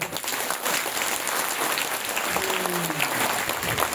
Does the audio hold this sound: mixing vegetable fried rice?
no